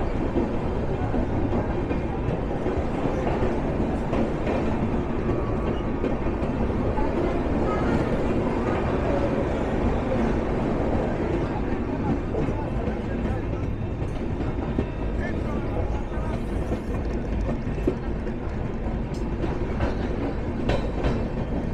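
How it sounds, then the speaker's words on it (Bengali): The Himgiri Express at Buxar station, a loud sustained rumble of rolling coaches with rhythmic wheel clatter, close by and continuous for the whole stretch. "এই ট্রেনটি বক্সারে এসে আসার কথা ছিল 11টা 55-তে, 3 মিনিট আগেই 11টা 52-তে এখানে এসে পৌঁছেছে।"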